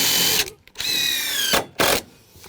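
A power drill drives screws into the end of a cedar deck board during a deck rebuild, loud close whirring bursts broken by short pauses, alone and without speech.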